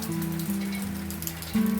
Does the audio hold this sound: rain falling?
yes